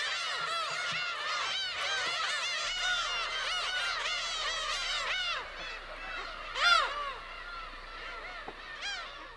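Many seagulls calling at once in dense overlapping cries on rocky Dokdo island, loud and continuous with occasional louder nearby squawks.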